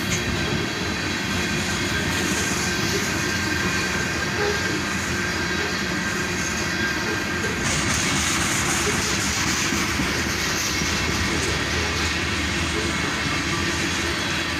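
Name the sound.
freight train cars passing by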